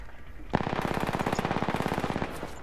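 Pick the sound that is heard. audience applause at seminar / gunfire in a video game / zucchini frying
gunfire in a video game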